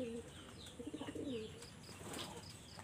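Pigeons in a loft give soft, rapid cooing pulses close by, a short burst of throaty coos in the middle, with light chirps and faint rustling around them.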